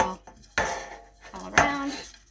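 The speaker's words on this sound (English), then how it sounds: "Shake the dish." A buttered baking dish dusted with flour is shaken, giving two close rattling clatters of the dish against a surface.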